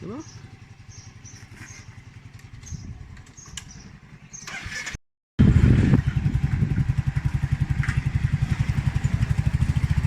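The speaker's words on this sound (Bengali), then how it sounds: "এখান থেকে আমি বাইকে করে ঘুরতে যাব।" A motorcycle engine putters steadily with a rhythmic low thrum, briefly cutting out before returning louder, with faint background noise and short chirpy sounds, riding in Siliguri.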